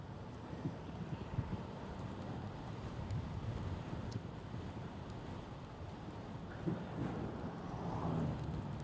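Steady rain falls throughout, a dense hiss with low rumbling wind noise beneath it, continuous and fairly loud with no voices.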